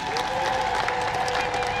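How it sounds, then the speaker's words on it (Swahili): A crowd claps steadily and cheers at a tax-collection event, with a sustained, even wash of applause and some high ululation-like tones throughout. "Tatu, makofi mengi na vigelegele"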